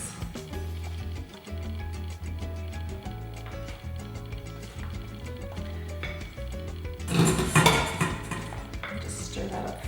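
Utensil clinks and scraping against a bowl as eggs, potatoes and onions are stirred, with a louder burst of clattering near the end; no one speaks.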